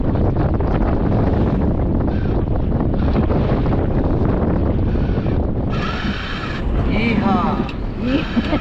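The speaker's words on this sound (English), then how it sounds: "The wind was coming right down on our nose" Strong wind roars against a sailboat at sea as it bashes head-on into an opposing current, a loud, steady buffeting that fills the whole stretch, with voices joining toward the end.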